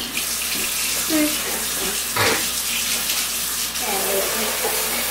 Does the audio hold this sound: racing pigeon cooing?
no